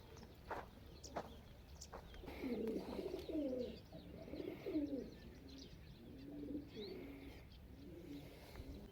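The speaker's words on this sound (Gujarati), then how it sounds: "વાવમાં કબૂતર good good good good good good કરે છે" Pigeons coo in a stepwell in a series of soft, low, throaty calls, several birds overlapping, with occasional small chirps and light background rustle.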